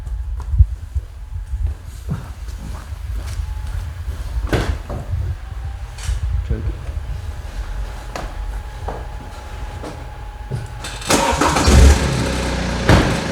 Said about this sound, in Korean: 요 시동을 켜가지고